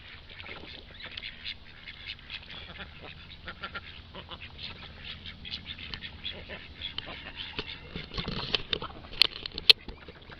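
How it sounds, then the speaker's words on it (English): A duck quacks intermittently near a pond with chickens nearby, the calls faint and scattered, with a few louder squawks toward the end. "First duck I seen was afraid to get in the water."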